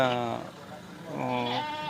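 Goats and sheep bleat at a livestock market, two long wavering calls close by over a busy background murmur.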